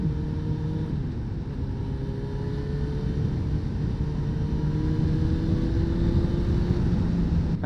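A Suzuki Bandit 600 motorcycle fitted with an MIV exhaust drones steadily while riding, its engine note rising slowly in pitch under constant wind rumble, heard close up with no talking.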